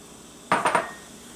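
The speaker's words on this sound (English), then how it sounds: "I want to grab my potatoes and just dump them in here" Potatoes dumped into a pot while cooking vegetarian minestrone, a quick cluster of three close clattering thuds against the pot, then quiet.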